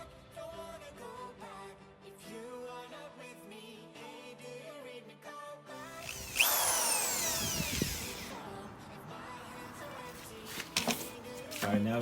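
A power drill with a mixing paddle churns epoxy floor coating in a bucket. A soft tonal hum at first gives way to a louder, rougher whirring and scraping, heard close and alone.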